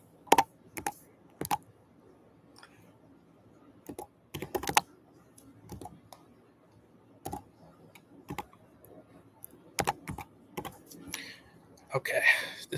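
A phone number is tapped in on keys in irregular short bursts of sharp clicks spread across a quiet room, close and crisp with pauses between groups and a brief faint murmur near the end.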